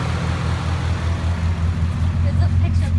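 A 2014 Ford F-150 SVT Raptor with an upgraded loud exhaust rumbles close by in a deep, steady idle, heavy and continuous without pause.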